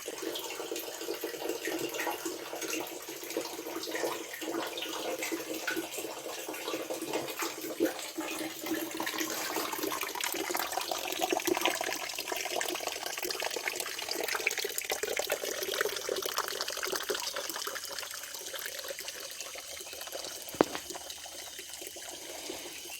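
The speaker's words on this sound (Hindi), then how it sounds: "Running fresh water." Fresh water runs continuously at a forest rest house near Corbett, a steady hissing, splashing flow of moderate loudness that carries on without voices, with one brief click near the end.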